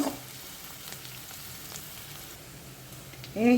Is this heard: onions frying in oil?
yes